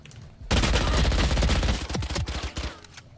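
Rapid gunfire from a video game shooter, a dense burst of overlapping shots that starts abruptly and stays loud, then breaks into separate cracks and thins out near the end.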